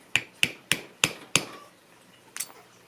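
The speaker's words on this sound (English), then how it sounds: "give it a whack with the back of the screwdriver" Five sharp, evenly spaced metallic taps from the back of a screwdriver striking a pin in a Girsan Regard pistol, close and crisp, followed after a pause by one lighter knock.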